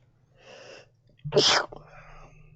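One sharp, loud sneeze bursts out in a quiet room during a tabletop role-playing game session, with soft murmured speech just before and after.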